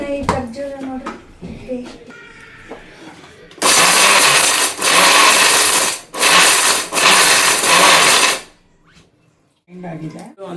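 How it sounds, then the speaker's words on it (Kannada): A kitchen mixer grinder pulverizes almonds in four loud bursts of whirring motor noise with short gaps between them, and a person talks quietly before and after the grinding. "ಫಸ್ಟು ಬಾದಾಮಿನ ಒಂದು ಸ್ವಲ್ಪ ಗ್ರೈಂಡ್ ಮಾಡ್ಕೊತೀನಿ"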